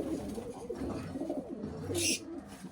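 A pigeon coos softly inside a coop, low and muffled, with a short burst of higher noise near the end.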